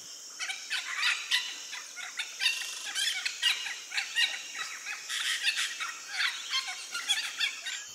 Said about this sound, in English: Like most macaws, they were quite chatty.